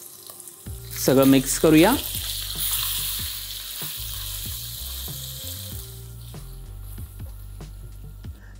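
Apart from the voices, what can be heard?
tempering of green chillies and spices frying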